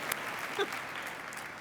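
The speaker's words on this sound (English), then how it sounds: "Yes, applause for DEMSON." Faint, steady applause from an audience at a fall nursing graduate recognition ceremony, a soft continuous patter that stays distant and even for the whole short stretch.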